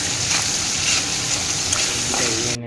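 Chopped tomato sizzles and fries in hot oil in a pan before local chicken is added for a sesame chicken curry; a loud, steady crackle fills the whole stretch with no talking, then cuts off at the end.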